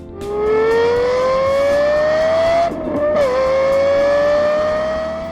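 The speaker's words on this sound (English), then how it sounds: "they asked their best audio specialists to tune the sounds the LFA makes. Just listen to this." A Lexus LFA engine with its sound tuned by Yamaha revs loudly and alone, a smooth, high-pitched harmonic wail climbing steadily, briefly dipping mid-rev, then carrying on.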